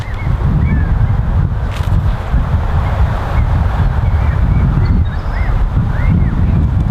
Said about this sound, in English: Hard right to left headwind here today.